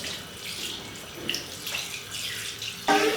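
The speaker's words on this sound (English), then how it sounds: "Wash your hands thoroughly." Hands are washed under a running tap, water splashing steadily into a sink with a sharper gush near the end, close and alone without speech.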